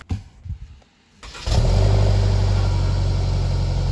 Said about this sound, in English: But let's get into the cold start.